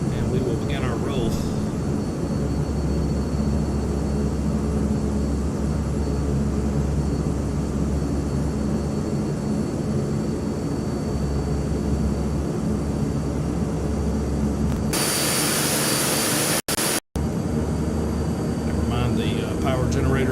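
A Black Square King Air turboprop on its takeoff roll in a flight simulator, a steady loud engine drone and propeller whine throughout, with a brief bright burst of noise near the end.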